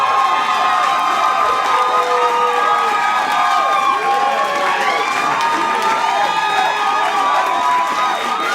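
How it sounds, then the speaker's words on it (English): A comedy club audience at the Purple Onion claps and cheers for a comedian coming on stage, a dense continuous wash of applause with whoops and shouts rising over it, loud and sustained. "Start clapping right now"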